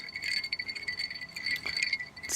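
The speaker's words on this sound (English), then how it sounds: "Bells on a sleigh." Continuous jingling of small bells, a busy shimmering rattle that keeps going steadily at moderate volume without pauses.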